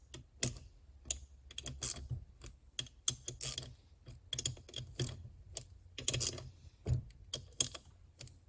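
A ratchet snugs down the bottom-end bolts on a Suzuki RM85 engine, giving a close, rapid string of clicking pawl bursts and handling taps in irregular rhythm, with no speech.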